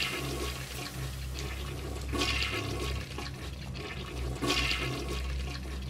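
Toilet flush in BioShock Remastered: a steady rushing, gurgling water surge with swelling bursts of splashing, fairly loud and close, with no talk over it.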